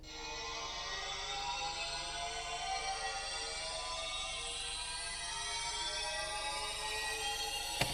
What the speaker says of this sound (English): Here I also add another siren sound that sounds like this.